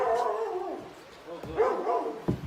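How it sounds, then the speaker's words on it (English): Dogs stranded in flood water beside a nearly submerged canal bark and whimper in distress, their cries rising and falling in several bursts at moderate distance. "we hear the dogs are just bawling for their lives there right now"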